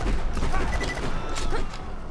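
Enemy gunfire in Borderlands 2: a steady stream of shots and thuds over dense game noise, with a player's voice talking intermittently.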